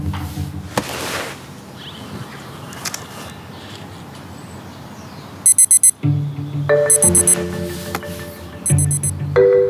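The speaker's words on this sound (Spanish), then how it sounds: "¿puedes poner una alarma a las 4 para darle de comer a Simón?" An electronic alarm beeps in quick bursts, a short cluster near the middle followed by repeated ringing bursts that grow louder over faint background noise.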